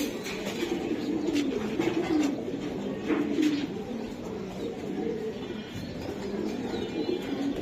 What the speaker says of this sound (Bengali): এই দেখেন কেমনে কাটছে কবুতরটা